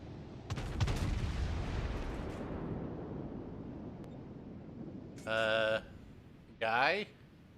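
Artillery shells bombarding in a naval video game: a deep, rolling rumble of distant shelling that swells and fades over several seconds, followed by two short tonal buzzing bursts near the end.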